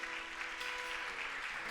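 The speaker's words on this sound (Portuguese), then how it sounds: "Dá uma salva de palmas para Jesus" A church congregation applauds together in a brief, dense burst of steady clapping that fills the room evenly.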